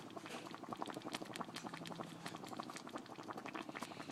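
Apple butter made from chopped apples, some peeled, bubbling as it cooks in a pot: a steady, close run of soft pops and burbles with no talking.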